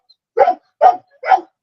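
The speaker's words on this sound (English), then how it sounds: "I said Benji, your dog started barking." A dog barks three times in quick succession, loud and fairly close, with short even gaps between barks and no talking over them.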